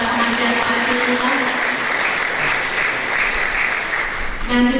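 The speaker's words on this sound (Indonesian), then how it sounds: "mari kita beri tepuk tangan untuk para pengajar praktik kita." An audience at a teacher-training workshop festival gives sustained, even applause for several seconds, with a voice speaking over the clapping.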